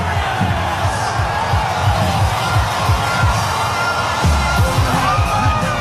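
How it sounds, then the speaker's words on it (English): Big stadium crowd at an NRL finals match between the Warriors and the Penrith Panthers at Mount Smart Stadium, roaring and cheering loudly and continuously as the Warriors run out, with shouts and whoops throughout. "The crowd is going off."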